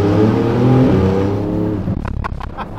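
Porsche GT2 RS engine heard from inside the car, a loud sustained rev that holds steady, then breaks into a rapid rattling burble as it settles.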